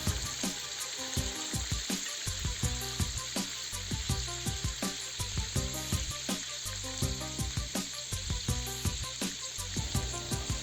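Potatoes frying in hot oil in a kazan, a dense continuous sizzle with rhythmic clinks and scrapes of stirring, close and fairly loud, no talking.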